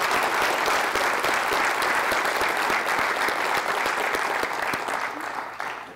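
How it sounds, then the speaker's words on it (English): Audience at an Air Force base wing commander's call applauding the guest speakers, a loud, dense burst of many hands clapping that holds steady and then tapers off at the end. "give a round of applause for both of our speakers who came in today"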